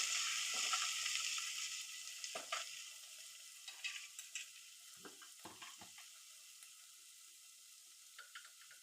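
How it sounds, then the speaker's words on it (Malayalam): Chopped onion sautés in a pan for a green gram curry while being stirred. A soft, steady sizzle carries scattered scraping and clacking stir strokes, with no talking. "എന്നിട്ട് സവാള എല്ലാം നന്നായിട്ട് വഴന്ന് കിട്ടുന്നത് വരെ ഒന്ന് ഇളക്കി കൊടുക്കാം."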